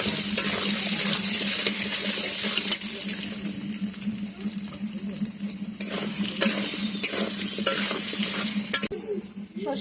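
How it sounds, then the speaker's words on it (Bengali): Potatoes frying with a little turmeric and salt in a very hot wok, a loud, steady sizzle with intermittent scrapes and clatters of stirring. "কড়াইটা পুড়ে দিয়ে অল্প হলুদ দিয়ে আর লবণ দিয়ে আলুটা ভেজে নিই"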